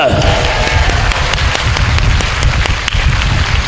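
A church congregation claps hands together in dense, continuous applause, loud and close, with voices mixed into the clapping.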